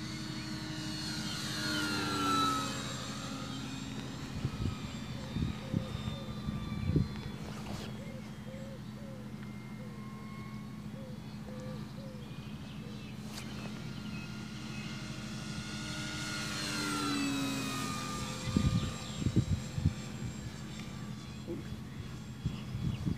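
Dynam Tempest RC model plane with a motor that is not running up properly makes a low pass, its buzzing propeller whine sweeping in and fading away twice, moderately near, with people talking over it.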